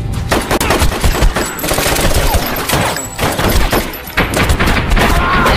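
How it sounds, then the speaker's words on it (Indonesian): Dense, sustained gunfire from a film shootout, with rapid machine-gun bursts and overlapping shots running continuously and loudly throughout, with no pauses. "Malangnya Sue harus terkorban dalam baku tembak tersebut"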